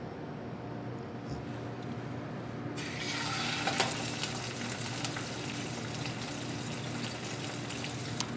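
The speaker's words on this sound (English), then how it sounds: "So that's gonna go in and sear for a moment." Duck skin searing in hot fat in a pan: a steady broadband sizzle, with a louder, brighter burst partway through as the food goes in, holding on at a constant level.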